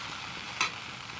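Kochur loti (taro stolons) fry in a pan with a soft steady sizzle and one brief scrape of stirring partway through, quiet and with no voices.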